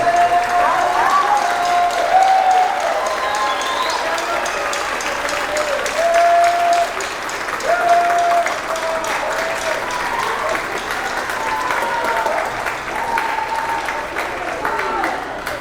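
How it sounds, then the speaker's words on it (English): At a high school spring band concert, the audience keeps up long, even applause that fills the hall, with scattered voices and cheers mixed into the clapping. "Give all of them a big round of applause."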